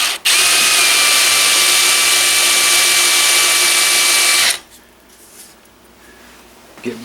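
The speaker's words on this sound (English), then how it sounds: "What I'm going to do now is countersink this. I've got my drill here" A power drill countersinking a screw hole whines steadily at close range for about four seconds, then cuts off abruptly, leaving quiet room noise.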